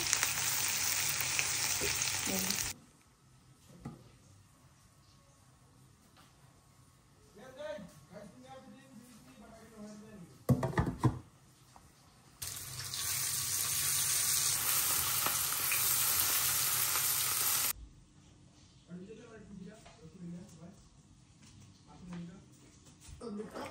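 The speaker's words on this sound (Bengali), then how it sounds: "আর এখানে ডিম ভাজলাম আর মাছ ভাজা" Eggs and fish frying in a pan make a loud, steady sizzle in two long stretches, with quieter gaps between them in which people talk.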